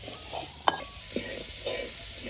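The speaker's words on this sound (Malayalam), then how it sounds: "ഇതൊക്കെ ഒന്ന് വഴറ്റിയെടുക്കാം" Crushed garlic, shallots and onions sautéing in a pan, a soft steady sizzle with a few quick scrapes and clinks of a spoon against the metal.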